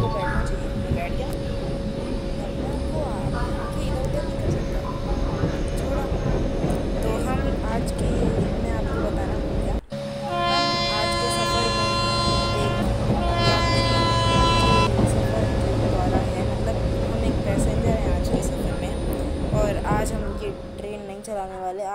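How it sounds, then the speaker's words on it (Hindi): Train running in the Indian Train Simulator game: continuous rumbling rail noise with a steady tone and a horn-like toot partway through, with someone speaking over it throughout. "हमारी ट्रेन भी चल रही है"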